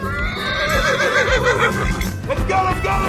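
A horse neighs as a sound cue in an escape room guessing game, a loud, close, quavering whinny that rises and trembles over about three seconds.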